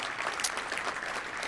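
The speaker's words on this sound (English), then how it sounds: "a round of applause for his parents for making the trip down here" A luncheon crowd at a touchdown club event applauds a high school football player's parents, producing a brief burst of steady, moderately loud clapping from many hands.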